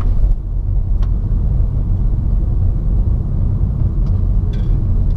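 A car drives along a road in steady, close, low rumbling engine and tire noise that holds evenly throughout, with a couple of faint clicks and no voices.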